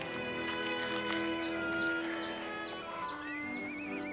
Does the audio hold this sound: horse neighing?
yes